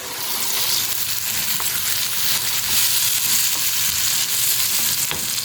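Mashed shami kebab bharta with chopped ginger fries in a pan, a loud, dense, continuous sizzle, with a spoon stirring and scraping now and then and no talking.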